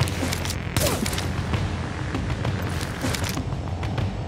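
Gunfire in the video game The Division, a few sharp shots and bursts cracking over a continuous rumbling background, moderately loud with no talk.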